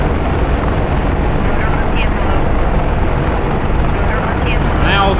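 An AH-64D attack helicopter in the DCS combat flight simulator, flying a Desert Storm mission, produces a loud, unbroken rotor and engine roar throughout, with voices talking over it.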